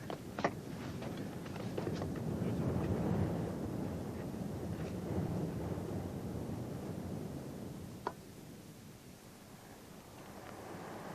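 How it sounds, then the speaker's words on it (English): Wind gusting on Ben Nevis at up to about 20 knots, a steady rumbling roar against the microphone that rises and eases over several seconds, with a few faint knocks. "Wind's not very strong today. It's gusting up perhaps to 20 knots"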